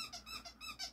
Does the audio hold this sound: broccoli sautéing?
no